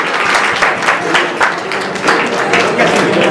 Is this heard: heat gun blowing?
no